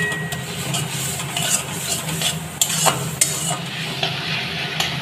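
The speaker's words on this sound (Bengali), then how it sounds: "এবার এটাকেও ভালো করে নেড়ে শুকনো করে নেব।" Taro greens are stirred in a pan until dry, with a close, loud sizzle and repeated scraping and clinking of a utensil against the pan at an uneven rhythm.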